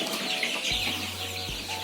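Young chickens about 25 days old clucking inside a coop, a steady close chorus of chirps and clucks with a low hum running underneath.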